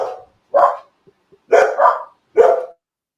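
Four loud, close dog barks in a quick irregular run, with short quiet gaps between them and no talking.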